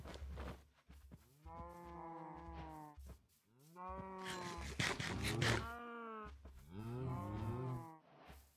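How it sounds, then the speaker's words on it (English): Minecraft cows in a multiplayer survival game let out several drawn-out moos in a row, each a few seconds long, close and clear with brief gaps between calls. "cows have mostly been fed apparently."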